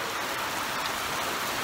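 Heavy rain pours steadily outside a rented house with a swimming pool, a dense, even hiss of drops hitting surfaces that holds at constant loudness with no voices.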